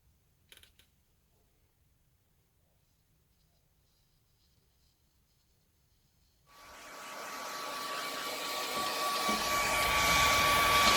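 A hair dryer switches on after a quiet stretch with a few small clicks and roars steadily, growing slightly louder, as it dries freshly blended paint near a taped edge.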